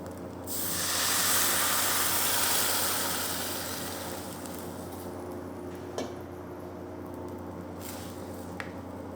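Hot water poured onto red rice and lentils frying in a pot for khichuri: a sudden loud hiss and steamy sizzle swells, then slowly fades into a steady bubbling simmer with faint clinks.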